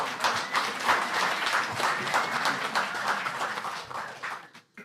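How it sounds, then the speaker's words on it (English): A Torrance city council meeting crowd applauds in a full, sustained burst of many hands, holding steady before thinning out and stopping abruptly at the end. "give them a round of applause"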